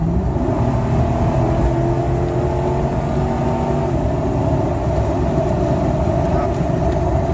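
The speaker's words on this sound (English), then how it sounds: "we're in top gear, and I'm just gonna floor it" A Ford XR8 with a suspected fuel problem accelerates hard in top gear at full throttle, a steady droning engine and road roar heard from inside the cabin with people talking over it.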